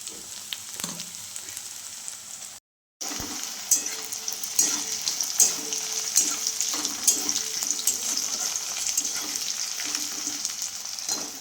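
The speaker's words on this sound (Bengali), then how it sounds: "শুকনো লঙ্কা তেজপাতা আদা সব ভেজে নিচ্ছি" Dry red chillies, bay leaves, ginger, onion, garlic and nigella seeds fry in hot oil with a steady close sizzle and occasional stirring clicks, broken by one brief silent gap, with no one speaking.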